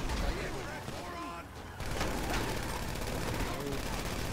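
Rapid gunfire bursts crackle in Grand Theft Auto V, a dense, continuous stream of shots with a brief lull partway through, heard under game noise.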